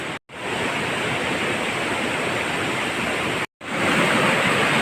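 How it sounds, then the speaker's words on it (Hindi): Rushing water in a hill stream, a dense, steady roar of churning flow that sounds close and loud and continues almost unbroken apart from two brief cuts. "बहुत ही खतरनाक है पानी।"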